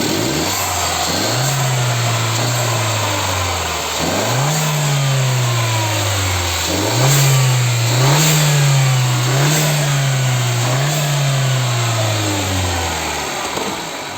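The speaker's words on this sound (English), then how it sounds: "Engine running all good. Engine running all good. Beautiful noise." A 2013–2018 Mercedes-Benz A 160 W176 AMG Line engine revs up repeatedly from idle, each rise held briefly before dropping back, in a steady series of close, loud revs with no talk.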